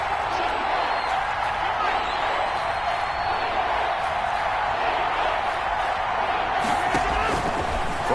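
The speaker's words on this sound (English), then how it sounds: "This crowd urging on their defense." Steady roar of a large stadium crowd in a PS4 football video game, continuous and loud throughout, with no distinct voices standing out from the din.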